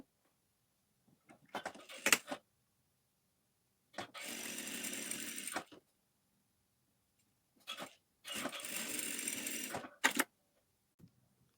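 A sewing machine stitches a cross-cut blouse in quick bursts, giving short rattling runs of rapid stitches separated by silence, with several brief clicks between them.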